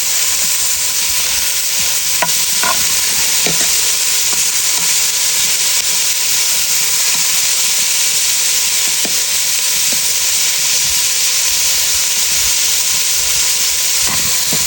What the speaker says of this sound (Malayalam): വെളിച്ചെണ്ണയിൽ ഇങ്ങനെ കിടന്നിട്ട് ചെറിയ ഉള്ളി കറിവേപ്പിലയും ഇങ്ങനെ ഒരു റെഡിഷ് കളറും ആവും കേട്ടോ